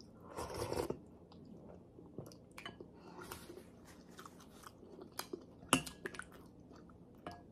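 Someone eats hot misua noodle soup with patola squash and shrimp, with close, quiet chewing, slurping and wet squishy bites coming in irregular bursts, plus a sharp clink or crunch partway through, and no talking.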